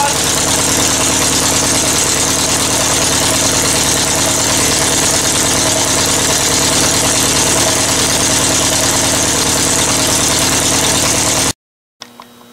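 A VW 1600 dual-port engine idles after a cold start. It makes a loud, steady, slightly lumpy mid-pitched drone for about eleven seconds, then cuts off abruptly, leaving a short silence and a faint clunk.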